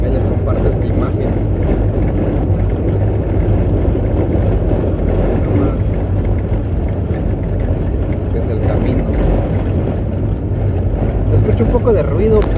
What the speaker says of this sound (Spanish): pues se escucha el ruido de las llantas del carro y el aire porque voy con los vidrios abajo.